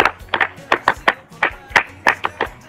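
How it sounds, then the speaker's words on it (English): Hands clap at a summer camp in a quick, uneven run of about a dozen sharp, close, loud claps with brief gaps between them. "big Piamingo hand clap"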